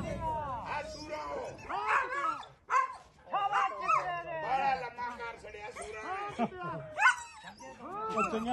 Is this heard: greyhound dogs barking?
yes